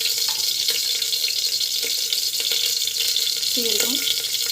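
Mustard seeds splutter in hot oil in a pan, a steady close sizzling hiss with a few brief pops, a voice briefly heard near the end.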